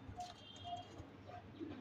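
Giribaz pigeons cooing softly in a loft, a few low repeated coos with faint chirps over light background noise.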